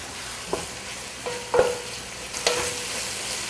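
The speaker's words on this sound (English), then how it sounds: "So you need to constantly stir the onion or it will burn." Onions frying in oil and being stirred, a low steady sizzle with a few distinct scraping knocks of a spoon against the pan, close and moderately quiet, with no talking.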